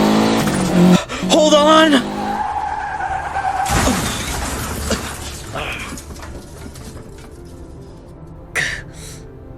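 Tires squeal as a car skids, then glass shatters and metal crashes loudly in the Amulet video game, up close, with shouting voices over the start and a low rumble settling afterward.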